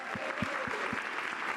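An audience at a talk applauds in a steady wash of clapping, with a few soft low thumps repeating at an even pace beneath it.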